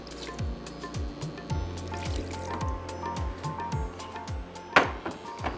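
A little water is poured into a pot of jhangora millet seasoned with biryani masala, giving repeated gurgling fill sounds that rise in pitch with each splash, plus a few light clinks near the end.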